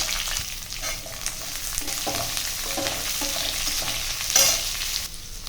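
Chopped onions, chana dal, urad dal and curry leaves fry in a hot pan for ragi upma while a spoon stirs them; a steady close sizzle with scraping strokes, no talking.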